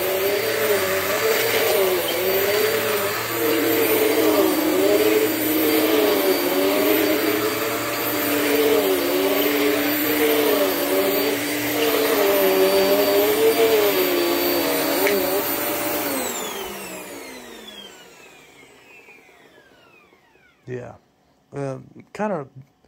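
A vacuum cleaner runs loudly with its brush roll spinning, a steady whirring drone with a wavering motor pitch; it winds down and stops near the end, followed by a few short knocks and handling sounds.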